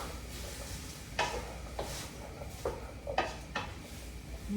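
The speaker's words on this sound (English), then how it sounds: "give that a good stir so it kind of gets around all of those vegetables and the meat" Beef stroganoff with flour, vegetables and meat gets stirred in a pan: a spoon scrapes and knocks against the metal in several distinct strokes over a soft, continuous sizzle.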